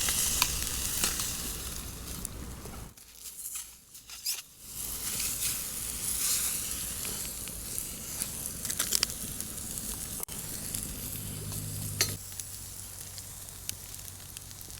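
Steady sizzling and crackling of fish frying in a hot pan outdoors on stones, continuous and close, with a brief dip partway through before the sizzle resumes.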